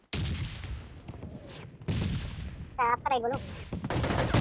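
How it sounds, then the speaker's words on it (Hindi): PUBG Mobile gunfire bursts out in a few sharp broadband cracks between stretches of someone talking, with an uneven, fairly close sound. "देखा फायरिंग आई"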